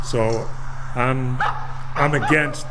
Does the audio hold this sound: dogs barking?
yes